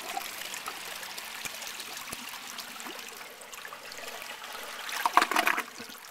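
A 2009 Mancesa Belair toilet flushes with a steady rushing and trickling of water, swelling briefly near the end before settling back.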